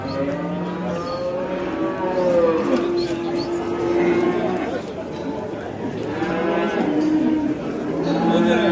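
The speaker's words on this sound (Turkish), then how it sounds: "Burada da hasta bir buzağımız var." Cattle at a crowded livestock market, including a sick calf, low and moo repeatedly in drawn-out, loud calls over steady chatter and background commotion.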